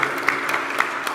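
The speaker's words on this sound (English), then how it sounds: "a round of applause, a round of applause" Brief applause from a small audience at a tech gathering on African innovation, a short patter of claps rising and fading without talk.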